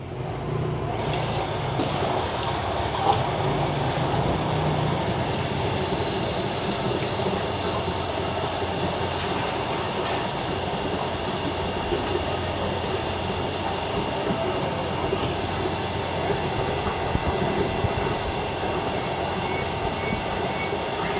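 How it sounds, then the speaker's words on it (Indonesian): An electric water pump runs continuously while filling through a larger pipe, a steady mechanical hum and rushing water flow holding at an even level throughout. "kita akan nyalakan pompa hingga airnya mencapai ketinggian ini ya"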